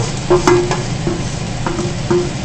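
Pieces of swamp eel frying in a hot pan for curry, with a steady broadband sizzle and several sharp utensil knocks and scrapes against the pan.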